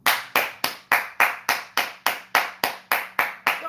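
A single pair of hands claps in a steady, even rhythm, about a dozen sharp, close claps in a row with no voices.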